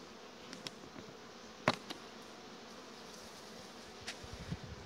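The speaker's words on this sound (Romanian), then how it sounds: "Se vede albina cum stă până jos?" Honeybees at an opened beehive frame give a soft, steady buzzing drone, with a few sharp clicks and knocks from handling the frame near the microphone.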